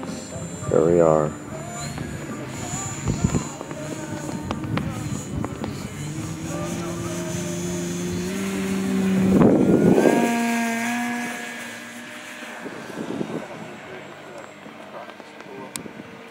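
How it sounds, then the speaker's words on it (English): A Hangar 9 P-47D radio-controlled model warbird making flying passes at a fly-in, its engine drone rising as it nears and sweeping past loudly before fading, heard under outdoor talk by onlookers. "So we'll let Jim fly his ship, and we'll get some of these passes and his flight."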